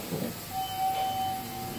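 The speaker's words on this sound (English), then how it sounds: "I can't believe the chime has been modded." A modded chime on a Delaware traction elevator at a university dormitory sounds as the car arrives, a single steady tone held for about a second over a soft background hum.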